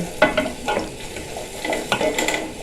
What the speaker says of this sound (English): So I'm coating everything, so I'm mixing everything together.